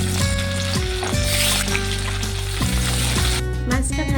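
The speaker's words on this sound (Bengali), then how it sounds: "বাকি মাছটাকে একইভাবে ভেজে নেব।" The remaining pieces of bhetki fish sizzle in hot oil, a dense, continuous crackle that stays loud and close for the whole stretch, over a background of steady music.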